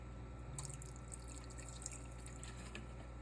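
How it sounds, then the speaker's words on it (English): White vinegar poured into a pot of simmering corned beef: a faint, close trickle of liquid over a low steady hum, with no talking. "about 3 tablespoons of white vinegar and continue to let it simmer for another 10 minutes."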